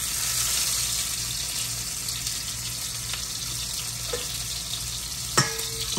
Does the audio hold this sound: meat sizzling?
yes